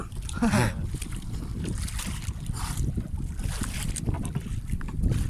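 A boat motor drones steadily throughout, a low continuous rumble mixed with wind noise and faint voices in the background.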